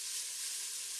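Minced pork and fat sizzle loudly in a pan over high heat, a steady bright hiss that stays even from start to finish.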